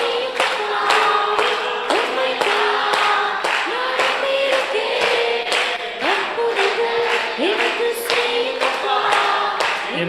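A church congregation at a Tamil worship service claps hands in a steady rhythmic beat, loud and close, with voices singing along throughout.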